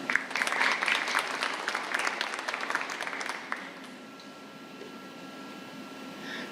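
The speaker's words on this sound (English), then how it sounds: "Please give my senior a round of applause." A high school awards-night audience applauds for a senior award recipient, brisk crowded clapping for about three and a half seconds that then stops abruptly, leaving a quiet room hum.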